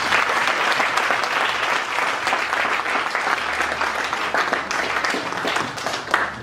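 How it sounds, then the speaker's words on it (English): A church congregation at a Sunday service claps hands loudly and continuously, a thick wash of many hands close around, with faint voices mixed in. "Clap your hand for Jesus."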